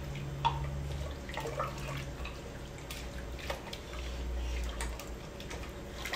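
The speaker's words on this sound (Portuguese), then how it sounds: "pega aquela água quente e joga aqui dentro da galinha pé seco" Hot water is poured into a pot holding a free-range chicken being prepared with lemon, producing faint, quiet splashing and dripping with small scattered drops over a low kitchen background.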